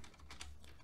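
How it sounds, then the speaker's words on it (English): Keys clacking on an Amiga computer keyboard as a command is typed into a shell, a quick run of close, distinct taps at low volume with no talking. "what I'm going to do is type in ed for the editor"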